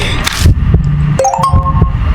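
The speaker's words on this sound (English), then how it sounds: "That was my phone, sorry." A phone's notification chime sounds indoors during a horror game on Nintendo Switch: a couple of short bright tones ring out over a low game-sound bed, with no talking.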